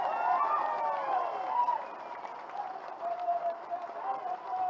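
Crowd applause at a political gathering, fairly faint and distant, with mixed clapping and murmuring voices blended together throughout.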